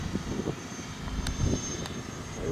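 A FlyFans Su-27 Flanker model jet with twin 64mm electric ducted fans roars overhead at higher throttle, a steady whooshing whine at moderate distance with wind noise.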